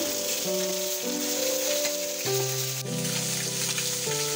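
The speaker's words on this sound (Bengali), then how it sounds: "মাছটা এবার এক পিঠটা হালকা ভাজা হয়ে গেলে পাল্টে আর এক পিঠটা একটু ভেজে নেব।" Fish fries in hot oil in a home kitchen pan, with a steady bright sizzle running the whole time beneath louder sustained background music.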